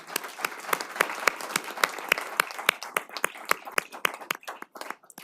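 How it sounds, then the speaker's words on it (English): A city council work session audience applauds with distinct, evenly spaced claps that ring out sharply for several seconds and thin toward the end. "I would just like to give her a big round of applause"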